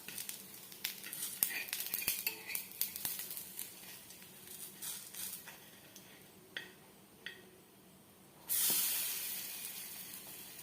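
Eggless Nutella French toast is flipped in a pan and shallow fried, light ticks and clinks of a utensil against the pan followed by a sudden soft, steady hiss of frying, all fairly quiet.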